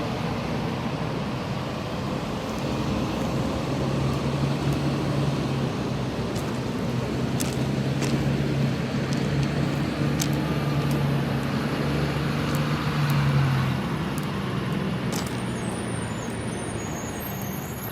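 A city transit bus idling, a steady low engine rumble with a faint droning tone, heard at a distance amid road traffic and occasional short clicks, with no talk.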